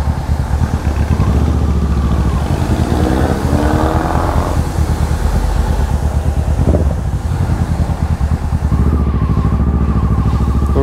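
An older-model Orion motorcycle muffler on a running motorcycle engine, close and loud: a continuous, rough, throbbing exhaust drone with wind noise and no pauses.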